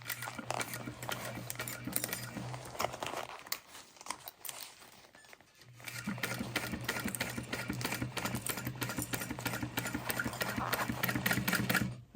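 A sewing machine stitches a seam on a bag with a steady motorised whir, pausing for about two seconds midway for a back stitch, then running on continuously to the end.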